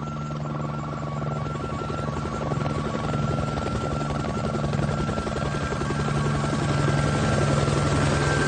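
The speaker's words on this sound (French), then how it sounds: "L'hélico survole ensuite la zone du relevé topographique que doit établir le géomètre." A helicopter flies over a topographic survey area in French Guiana, its rotor throbbing steadily and loud with a constant engine whine, close and continuous, growing slightly stronger toward the end.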